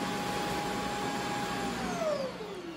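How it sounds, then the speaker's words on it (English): An iRobot Roomba i7+ sitting on its dock as the base self-empties the bin, a steady loud vacuum-like roar with a rising whine toward the end, no talking. "I'm gonna go manually put it on the dock again so it can clean itself out"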